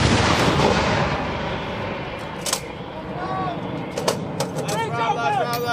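M777 howitzer live fire on an army firing range: a loud, broad rumbling blast roll that decays over several seconds, with a few sharp cracks and clicks afterward and faint crew voices in the background.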